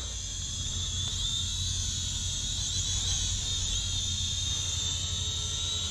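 Snaptain A15h camera drone in flight, its small propellers producing a steady high-pitched whine with a constant buzzing hum beneath, loud and unbroken throughout.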